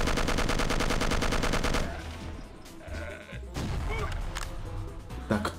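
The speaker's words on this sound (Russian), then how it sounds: "Так, кто стреляет так," Rapid gunfire bursts in the shooter game Will Rock, a dense repeating volley loud at first, then a busier mix of shots and game effects with a few sharp reports.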